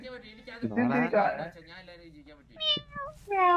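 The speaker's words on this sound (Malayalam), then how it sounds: "ഇതാര് ഈ പൂച്ചയാരാ?" A cat meows several times at close range, short rising and falling calls in a quiet indoor setting, mixed in with a person talking.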